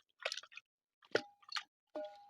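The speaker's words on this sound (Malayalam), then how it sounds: "ഇതിലേക്ക് നേരത്തെ മസാല പിടിപ്പിച്ച് വെച്ചാൽ നമ്മുടെ ചിക്കൻ പാർട്സ് ഇട്ട് കൊടുക്കാം" Pieces of chicken drop into a thick masala in a pan, giving three soft, wet, squishy plops spaced about a second apart, each quiet and close.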